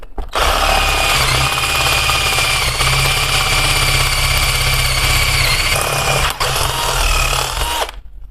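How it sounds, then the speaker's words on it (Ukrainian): A power drill boring angled holes into a Solex carburetor body, a loud continuous whirring motor drone held steady for several seconds before cutting off near the end. "І так само стараємось сверлити."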